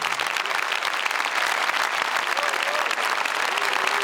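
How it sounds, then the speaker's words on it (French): Audience applause at a French business awards ceremony honouring company leaders, dense and steady throughout, with faint voices mixed in the crowd. "applaudissez-vous pour nous"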